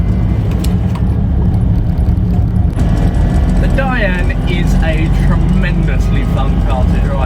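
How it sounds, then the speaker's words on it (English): A 1978 Citroen Dyane with a 435cc engine drives along a country lane, its engine a loud, constant close drone with rattling road noise and chirping birds faintly above it. "So, out and about in the little Citroen."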